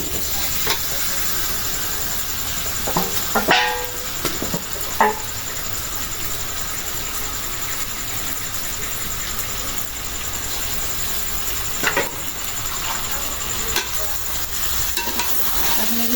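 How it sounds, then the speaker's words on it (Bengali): Marinated chicken frying with spices in oil, a steady sizzle throughout with a few louder stirring scrapes and clatters. "তেলে একটু ভাইজা নেব মশলা সহ"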